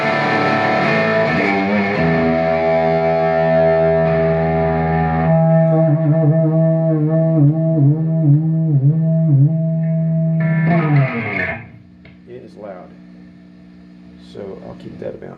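An electric guitar plays through a converted RCA MI 13295 PA amplifier, giving loud sustained chords with a wobbling, effected tone and heavy amplifier noise, then cutting to a quieter, sparser pluck.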